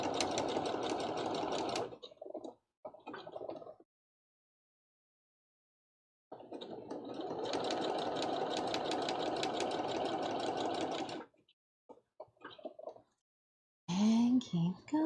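A sewing machine runs in two long bursts, stitching appliques onto a One Piece Big Mom Jolly Roger cosplay flag, with short clicks between runs and a brief voice at the end.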